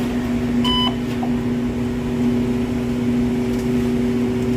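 A Frymaster fryer controller gives a short single beep as its off button is pressed, heard near the start over a loud steady electrical hum from the kitchen equipment, with no talking.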